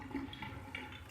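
Tap water runs into a sink for rinsing after a shave, a quiet continuous splashing stream with slight gurgling fluctuations, heard alone.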